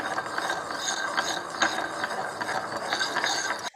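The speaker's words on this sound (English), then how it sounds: "इसको जो है हम स्लोली ऐड करेंगे continuously in the motor pastel and continuously ट्राइचुरेट it" A suspension being ground in a mortar and pestle while sugar solution is slowly added, heard as a steady, close, gritty grinding rasp that runs continuously through the short stretch and ends abruptly.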